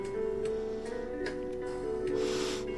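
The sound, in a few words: Arduino alarm clock with MP3 player going off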